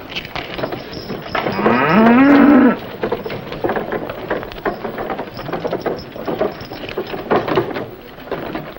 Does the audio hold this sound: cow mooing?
yes